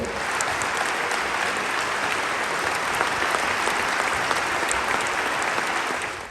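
Crowd at a T-Town community celebration for a boys' team's third place in state, clapping in a dense, sustained burst of applause that stays steady throughout and stops abruptly at the end.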